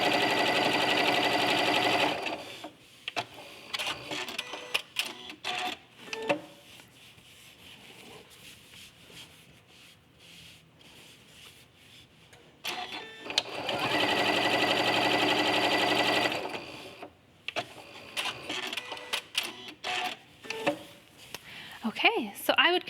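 A domestic sewing machine runs in two bursts of steady whirring stitching while quilt-as-you-go fabric scraps are sewn down, with quiet handling noise and rustling of fabric between the runs and after them.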